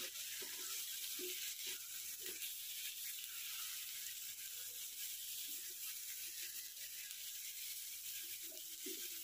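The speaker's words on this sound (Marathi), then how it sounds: "आणि असं हलवून घेते." Brinjal stirred and fried in ground masala in a pan, a steady faint sizzle with soft scraping stirs every second or so throughout.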